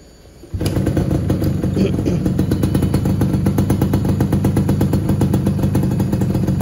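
Yamaha FIZR motorcycle with a freshly replaced exhaust muffler insert starts abruptly and runs at a steady, loud, close idle with a rapid pulsing beat, no talk over it.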